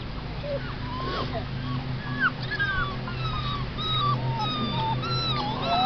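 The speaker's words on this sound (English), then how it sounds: "Puppies!" Puppies whimper and yip outdoors with a rapid run of high, thin cries over background noise, and people talk throughout.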